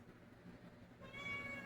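A domestic cat meows near the end, a couple of short harmonic calls rising over quiet background murmur after a second of near silence.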